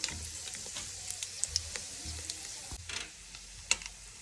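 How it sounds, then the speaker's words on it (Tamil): Mustard seeds, urad dal and dried red chillies sizzle in hot oil for a Tamil sambar tempering, giving a steady frying hiss with scattered small pops and crackles close by. "கடுகு நல்லா பொரிஞ்சு வர டைமில் வரமிளகாய் சேர்க்குறோம்."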